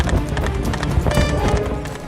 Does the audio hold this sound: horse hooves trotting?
yes